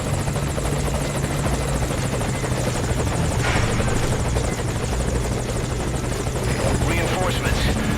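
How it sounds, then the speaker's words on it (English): Helicopter rotor and engine drone in Metal Gear Solid V: Ground Zeroes, a steady loud hovering whir that holds throughout under game ambience, with faint voices. "I'll have the chopper wait in the air."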